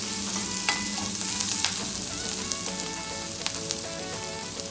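Green chillies sizzle in hot oil in a frying pan with a steady, bright crackle. Scattered sharp pops and spoon scrapes mark the sound, which stays close and even throughout with no talking.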